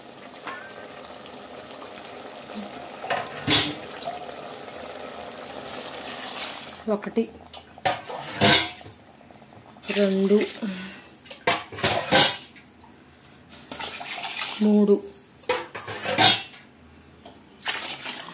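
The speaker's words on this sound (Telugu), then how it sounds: "ఇప్పుడు మనం వాటర్ వేసేసుకుందాము." Water is poured by the mugful into a cooking pot of chicken pulao with soaked rice, bringing splashes and metal clanks in bursts while a voice counts aloud.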